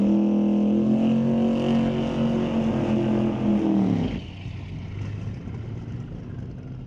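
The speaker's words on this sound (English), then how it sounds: "And here comes a turbo car." A turbocharged drag racing car launches down the track at a drag race, its loud steady engine drone holding a tone before dropping abruptly into a rougher, fading roar as it pulls away.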